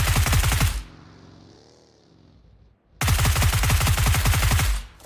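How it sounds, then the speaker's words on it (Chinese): Automatic gunfire from a battle royale video game, two long, loud sustained bursts of rapid shots separated by a quieter gap of ambient game sound. "我最后1梭子弹，就算是被毒死，我也不会让你们好过。"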